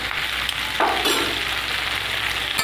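Cumin paste sizzles in a pan with fried potato and plantain, a brief close hiss with a quick stirring scrape midway.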